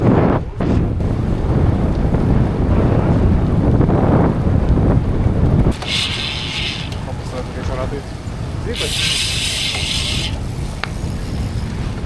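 Headwind gusts rumble across the microphone on a gravel bike ride through Lithuanian countryside, a constant buffeting roar that rises and falls, with someone speaking over it and some tyre and road noise.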